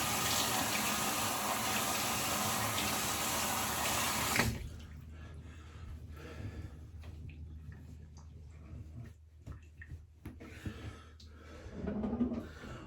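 Tap water runs steadily from a faucet to rinse alum off the face after a straight razor shave, then shuts off about a third of the way through, leaving a quiet room with faint small movements.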